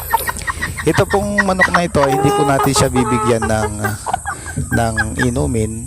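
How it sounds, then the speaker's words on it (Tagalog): A chicken clucking repeatedly at close range, with a short tonal call, while a person talks over it. "Ito pong manok na ito"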